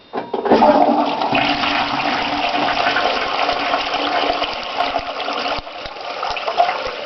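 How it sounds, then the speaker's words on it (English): A home toilet with a partial blockage flushes in a loud, steady rush of water that lasts several seconds, then cuts off abruptly, with a brief gurgle near the end. "we're just going to try this new toilet flusher out"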